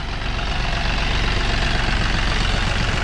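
A John Deere 5045 4x4 tractor engine runs steadily close by, a dense, continuous diesel rumble and clatter with no voices.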